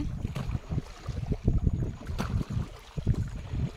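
Oars dip and pull through river water beside a wooden fishing boat on an overcast day, a rhythmic series of close, low splashes and knocks repeating every half second or so.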